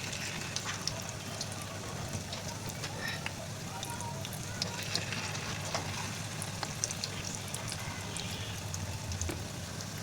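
Ukoy fritters fry in a pan of deep oil, giving a steady, dense crackling sizzle with scattered sharper pops throughout.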